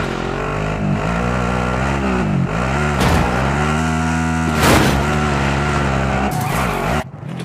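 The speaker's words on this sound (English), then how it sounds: "I'll be driving." A vehicle drives in the Call of Duty video game, its engine droning loudly with pitch that rises and falls as it speeds up and eases off, plus a sharp burst near the end.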